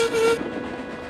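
A train engine's whistle, a loud close steady tone lasting about a third of a second before cutting off into rumbling rail noise.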